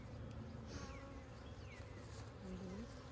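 Honey bees buzzing steadily at a hive holding a caged queen in an isolation box among worker bees, a close, continuous insect drone with individual bees passing by.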